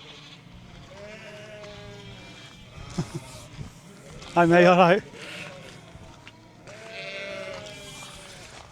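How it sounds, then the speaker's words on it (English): A flock of sheep on a hike around Pendle Hill bleats nearby in several overlapping calls, with one loud, wavering bleat standing out in the middle. Someone talks briefly between the bleats. "Noisy, aren't they? Sounds like my local pub, that. There are loads of them."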